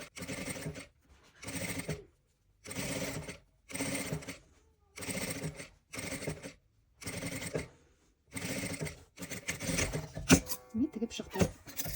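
A sewing machine stitches a fabric fox toy in repeated bursts of about a second each, separated by short pauses, running close and steady before ending in some clattering handling noise.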